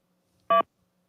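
A single short telephone keypad tone, pressed to accept an incoming call, sounds once clearly and alone against near silence.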